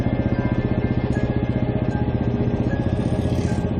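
A Bullet motorcycle engine runs steadily up close, with a fast, even thumping pulse and mechanical clatter that hold at a constant level throughout.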